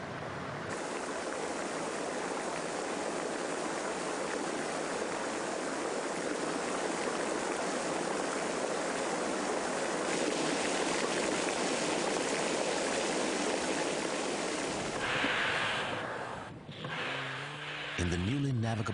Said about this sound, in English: drips quickly become torrents, cascading off icy cliffs and out to the sea.